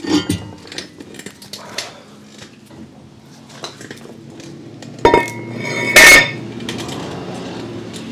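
A hammer strikes a stuck front brake rotor on a 2015 Jeep Grand Cherokee WK2, giving loud metallic clanks and clinks, a couple of them sharp and ringing, among quieter shop clatter.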